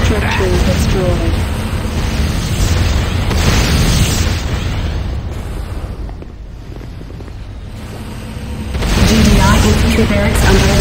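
Loud, rumbling blasts of a structure being destroyed in the Renegade video game, a GDI Advanced Guard Tower, with booming bursts over continuous battle noise and a lull midway before another surge.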